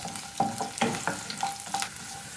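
Garlic and ginger sautéing in a pan for a restaurant-style matar paneer, with a steady sizzle and sharp spoon scrapes and clinks recurring every half second or so, close and fairly quiet, with no voices.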